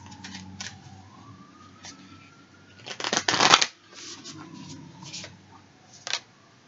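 Tarot cards shuffled by hand, soft riffling flicks leading to a louder, dense burst of shuffling midway and one brief flick near the end, with faint background tones.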